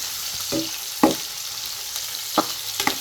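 Pounded bitter gourd (karela) fries in a pan over steady background sizzle, broken by a few sharp bursts of stirring or scraping at irregular intervals.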